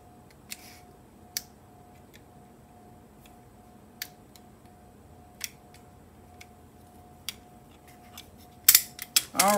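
Scissors snip through paper while making planner pages, with sparse, sharp cuts spaced a second or more apart against a quiet room, then a louder burst of rustling and clicks near the end.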